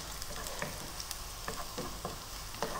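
Garlic frying over high heat in a pan sizzles loudly and steadily, with repeated soft scrapes and ticks of stirring throughout.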